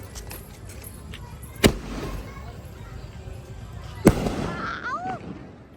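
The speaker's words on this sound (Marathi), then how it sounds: "तिकडे फटाके वगैरे चाललेत आमची फोडण्या वगैरे" At a Bhim Jayanti celebration in Ambernath, firecrackers go off in two sharp, loud bangs a few seconds apart over crowd murmur and voices, with a brief whistling sound near the end.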